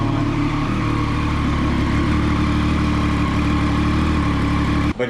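A Triumph Daytona 675R motorcycle engine idles after sitting unused for two years. It runs loud, close and steady throughout, with no talk over it, then cuts off abruptly just before the end.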